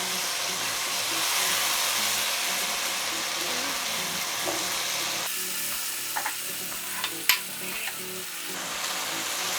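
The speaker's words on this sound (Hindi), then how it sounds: "हमारा मसाला भुन रहा है ये" Garlic, onion and masala fry in a pan for a quick onion fried chicken, a continuous close sizzle with soft stirring scrapes and small pops and no talk.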